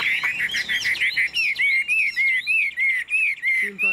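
A Chinese hwamei songbird sings loud and close, a continuous run of bright whistled phrases and rapid trills that repeat in short bursts without pause.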